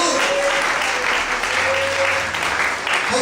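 A church congregation applauds steadily during an evening worship service, a dense, sustained wash of clapping from many hands with a faint voice underneath.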